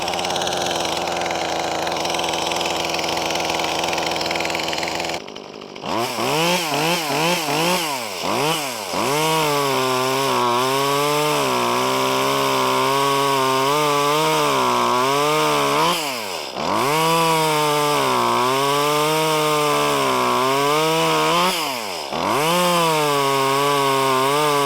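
A classic mini chainsaw engine catches after a brief pull and runs, its pitch swooping up and down as the throttle is blipped repeatedly, loud, close and steady with no voices.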